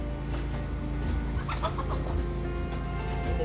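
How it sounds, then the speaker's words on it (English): Chickens scuffle and cluck close by in a busy backyard flock with a rooster among them, agitated squawks and clucks rising over a steady low hum without pause. "And the chickens are fighting."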